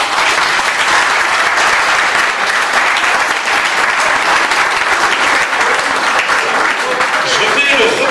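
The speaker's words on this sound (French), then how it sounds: "je pense qu'on peut les applaudir" Sustained applause from a large crowd at a carnival poster unveiling in Ressaix, dense and steady clapping throughout at a consistent loud level, with no individual voices standing out.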